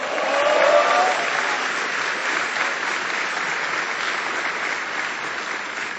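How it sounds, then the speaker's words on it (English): A large crowd of troops at Fort Bliss applauds steadily, a dense and sustained roar of clapping that swells slightly at first, then holds level. "Give them a big round of applause."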